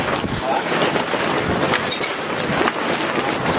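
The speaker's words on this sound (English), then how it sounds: "it's windy." Strong, gusty wind roars steadily across the open shore of Lake Somerset during a fishing trip, buffeting the microphone with loud broadband rushing that never lets up.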